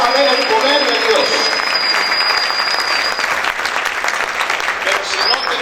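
A church congregation at a Spanish-language service claps loudly and continuously, a thick sustained wash of applause with a faint tone ringing over it.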